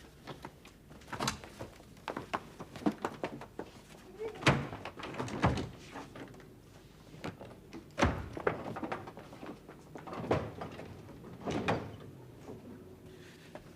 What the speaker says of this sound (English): Just tidying your drawers, Daphne.